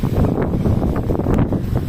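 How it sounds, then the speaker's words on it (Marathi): Strong gusty wind blows through a village during a sudden storm, buffeting the microphone with loud, low rumbling surges that swell and fade. "वारं खूप सुटते वारं डायरेक्ट खेचतं आहे माणसाला"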